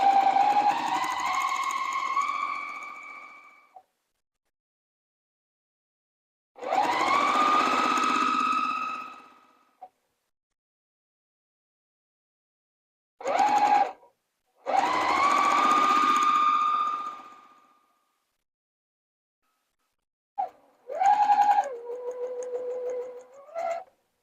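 Sewing machine stitching quilt fabric in bursts, several runs of a few seconds each separated by silent pauses, close and clear.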